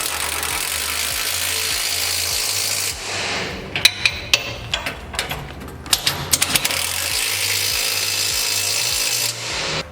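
Ratcheting and tool clicks while bolts are tightened on the rear step bar of a PX Ford Ranger, a burst of sharp mechanical clicks and rattles between steady background hum, close by.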